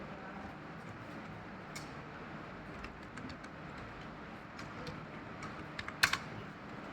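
Keys tapping on a computer keyboard in scattered, light clicks under a steady background hiss, with a brief louder burst of keystrokes near the end.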